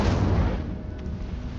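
Incendio fire spell cast in Hogwarts Legacy, a loud booming burst that opens the moment and then tails off into a rumbling, crackling decay, with no voices present.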